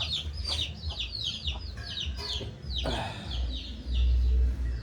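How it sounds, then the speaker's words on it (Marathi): Four small chickens and one large chicken cluck and chirp in quick bursts close by, over a steady low rumble of background noise. "चार छोटे आणि एक मोठा कोंबडी"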